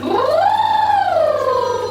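A single voice slides smoothly up in pitch, holds briefly, then glides back down, imitating a siren as a vocal warm-up.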